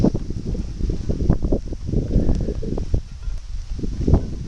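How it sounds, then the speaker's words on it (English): Blustery wind from Hurricane Irene in upstate New York buffets the microphone in uneven gusts, a steady low rumble with rustling surges that swell and ease throughout. "it was a tad bit windier earlier, and the gusts are still up there pretty good"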